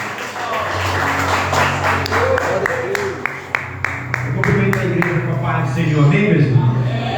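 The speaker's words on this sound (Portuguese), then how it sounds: "Vamos receber o diácono com as palmas," A Pentecostal church congregation claps to welcome a deacon, with scattered and then rhythmic handclaps under someone speaking and a sustained organ or keyboard tone, moderately loud and close.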